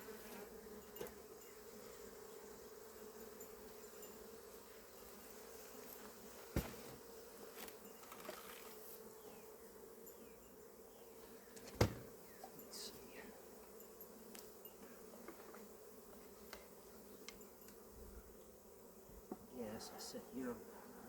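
Bees buzz around an open beehive during a first spring inspection, a soft, constant drone with a few faint knocks and clicks of handling, low and steady throughout.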